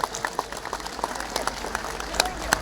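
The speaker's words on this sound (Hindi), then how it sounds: "ऊपर हाथ खड़े करने तालियां बजावा जरा कर।" An audience at a Lohri greeting event claps with raised hands, a steady patter of applause from many people throughout, moderately loud and fairly close.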